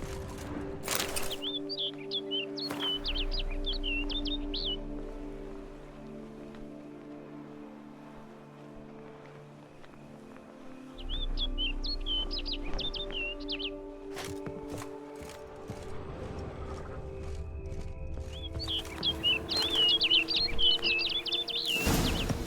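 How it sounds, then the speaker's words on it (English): Birds chirp in bursts of high, quick tweets in a wooded outdoor scene of The Witcher 3, recurring three times over steady ambient game sound and footsteps. "Looks like the bird's leading me somewhere."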